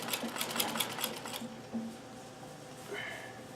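A sewing machine stitching the cuff of a bomber jacket, a rapid close mechanical whir with rhythmic needle clatter for over a second, then it stops and faint handling noises follow.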